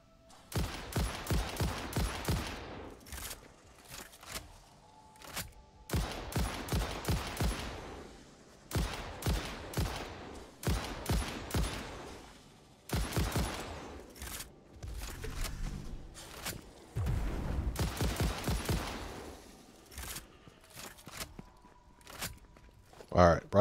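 Rifle gunfire in the video game Satisfactory comes in rapid bursts of shots separated by short pauses, loud and close throughout, with footstep-like crunches between volleys and occasional talk over it.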